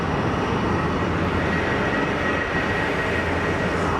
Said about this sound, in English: Quiet departure for the Geneva A320